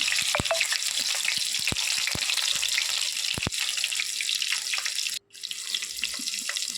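Onion sizzling in peanut oil for an ivy gourd curry, a steady broadband hiss with sharp pops and clicks scattered across it, loud and close, dropping out for a moment near the end before resuming.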